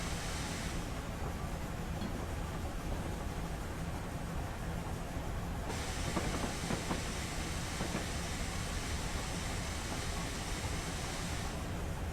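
In Train Simulator 2016, the Union Pacific 4014 Big Boy steam locomotive runs on Sherman Hill with a steady, continuous rolling rumble and hiss, and faint rhythmic rail clatter partway through, with no talking.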